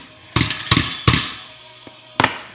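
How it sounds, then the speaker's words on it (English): A hammer taps brad nails into a metal license plate sign, several sharp metallic strikes in two quick bursts and then a final single tap, close and loud with no talking. "stick the brad nail in the hole first, sorry about that, and then tap it in"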